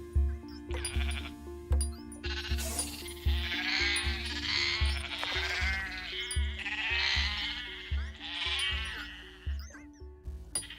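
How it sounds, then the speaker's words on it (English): Sheep bleat repeatedly in the farming strategy game The Colonists, several wavering calls overlapping over a steady game music backdrop with a low rhythmic beat. "The sheep are rather static."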